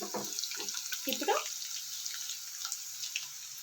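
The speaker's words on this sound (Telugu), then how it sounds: "నేను 550 ml వాటర్ పోస్తున్నానండి" About 550 ml of water is poured into a pan of roasted semolina for Bombay rava upma. A steady close rush of pouring water runs through the clip, with a few brief voice-like bursts near the start.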